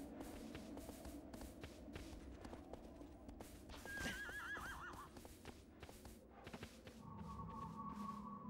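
A horse neighs loudly in Shadow of the Colossus on PlayStation 3, with a second whinny later, over soft hoof clip-clops and faint game ambience.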